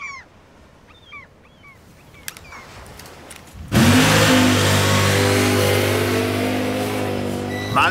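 A car engine starts with a sudden roar and keeps revving hard as it pulls away, loud and close, after a quiet coastal stretch with a few bird calls.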